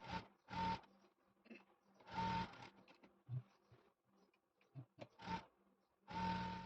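Sewing machine stitching saree fabric for a Navratri Nauwari Brahmini saree, heard in short close bursts of rapid whirring stitching separated by brief pauses and handling noises.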